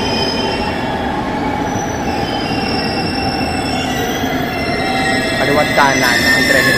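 A train in Saga Prefecture, Japan, rumbles past with steady low roaring and a high metallic wheel squeal rising toward the end, loud and continuous throughout.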